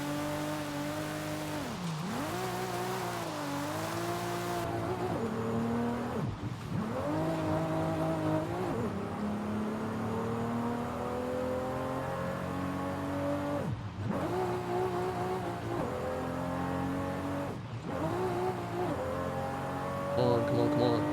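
Stock Toyota Supra in a racing video game, its engine droning and revving continuously with rising and falling pitch as it shifts through gears, with brief dips and tire noise, loud and steady throughout.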